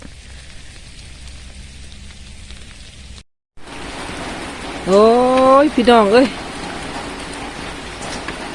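Steady, heavy rain hisses throughout on a farm during rice harvest, broken by a brief silent gap, while a voice calls out loudly midway over the downpour.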